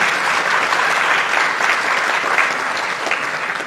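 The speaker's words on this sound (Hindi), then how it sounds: "धीरे बजाओ ताली" Sustained clapping from a crowd at a spiritual discourse, loud and even throughout, a thick unbroken rattle of many hands.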